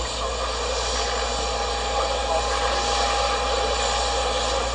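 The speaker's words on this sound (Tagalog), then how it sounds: "Yan pala yung aeroplano yung sinakyan niya." An airplane's engine roars as a steady, loud, broadband drone without pause, heard close and unbroken throughout.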